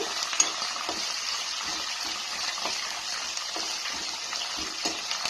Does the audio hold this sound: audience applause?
no